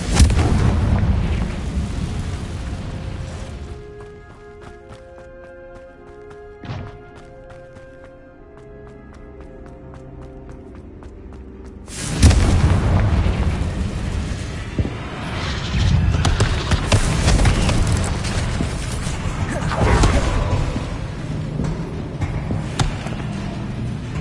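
Confringo blasting curse explosions in a Harry Potter video game: a loud boom, then a quieter stretch with musical tones, then a heavy burst of continuous rumbling blasts and crackling impacts.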